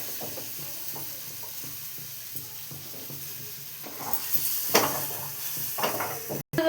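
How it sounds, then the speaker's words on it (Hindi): Paneer with turmeric, coriander powder and other spices is turned and fried in a pan, giving soft repeated scraping strokes over a low sizzle that grows louder and busier toward the end. "अब जो है इसमें उलट पलट करके फ्राई कर लेंगे।"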